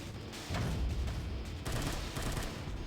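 Gunfire in the zombie shooter Unkilled comes in quiet, rapid bursts of automatic fire, two separate volleys over a low background with no talk.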